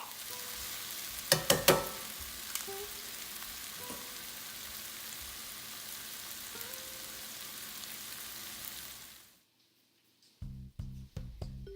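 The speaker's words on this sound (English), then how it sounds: "So we're going to saute this for 3 to 4 minutes" Onions and aromatics sauté for Jamaican stewed fish, with a steady soft sizzle and a few utensil clicks, then silence, followed by a short run of clatters.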